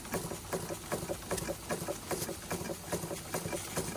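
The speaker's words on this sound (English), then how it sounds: "You see this engine's slowed down, but I like them running slower." An antique Bing 130/382 poppet valve steam engine runs slowly, giving a steady, even chuffing patter of rapid beats close up with no talk over it.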